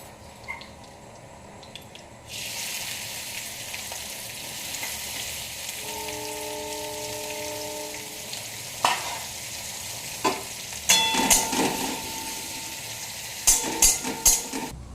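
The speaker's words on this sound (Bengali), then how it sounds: "এই কড়াইয়ে আবার কিছুটা পরিমাণ তেল নেব। দিয়ে পেঁয়াজটা ছেড়ে দেব।" Onions frying in oil in a wok, a steady soft sizzle with occasional stirring scrapes and clinks of a utensil against the pan, close and alone without talk.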